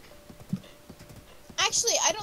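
Horse hooves clip-clop in The Legend of Zelda: Breath of the Wild, a few soft steps over background game audio with chatter, then a louder, brighter burst of bustle near the end.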